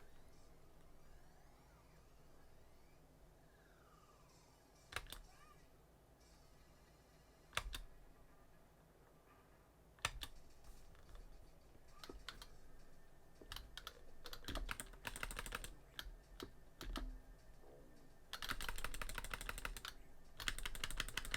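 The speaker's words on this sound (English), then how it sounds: "You can hear the clicking of the micro switches" Quiet, rapid clicking of arcade fight stick joystick micro switches and buttons, scattered at first then quickening into busy bursts over faint background sounds from a Simpsons arcade game.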